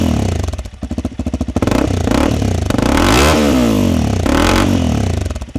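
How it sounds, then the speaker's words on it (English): A Honda CRF300L motorcycle with a loud Black Widow exhaust: close, very loud engine that chugs in rough pulses at idle, then revs up hard and rises and falls twice, with no talking. "that Black Widow exhaust on this motorcycle drives me absolutely nuts because it is"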